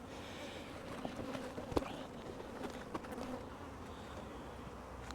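Honey bees buzz at a hive during a double screen split with queen introduction. The hum is close and steady, with a few brief knocks and clicks.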